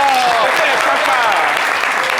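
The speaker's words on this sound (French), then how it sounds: "Applaudissez Ivo Biama." A live audience applauds a dancer named Ivo Biama on a French variety show, loud sustained clapping with a faint whistle or voice rising through the dense crowd noise.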